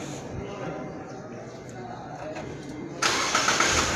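A car engine in an automotive workshop, heard near and fairly loud, with a low cranking hum that switches abruptly into a louder running roar about three seconds in.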